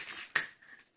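Tape pulled off a roll to seal a seam on a light tube unit, heard as a short crackly rip with brief crinkling bursts, close and fairly quiet, with no talking.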